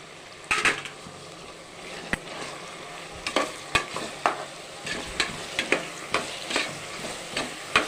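Mushrooms sautéing in a pan for mushroom biryani, a soft continuous sizzle broken by about a dozen sharp, close spatula scrapes and clanks against the pan at an irregular stirring rhythm, with no talking.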